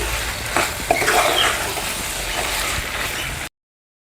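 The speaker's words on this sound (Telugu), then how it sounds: "లివర్ ఫ్రై అయితే చూడండి బాగా ఫ్రై అయింది." Chicken liver frying in a pan, a steady broadband sizzle with a couple of brief stirring clatters near the start, close and continuous until it cuts off.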